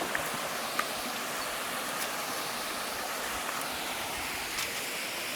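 A private waterfall pours in a steady, broadband rush of falling water close by, a constant hiss and roar with a few faint clicks over it and no talking.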